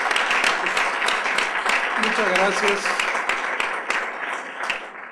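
Applause for a guest at a book discussion event, a steady wash of clapping from an audience that runs throughout, with a voice speaking briefly over it.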